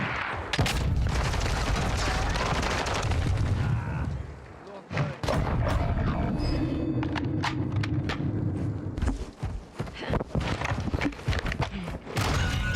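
Gunfire in Call of Duty Warzone 2.0 during a match: steady rattling shots and thuds mixed with game noise, running under nearly continuous talking voices.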